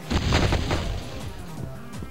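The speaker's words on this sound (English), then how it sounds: "we're just going to use a grenade" A grenade blast in the Sega Saturn game Die Hard Trilogy: one loud, deep boom that rolls out and fades over about two seconds, with faint electronic music tones underneath.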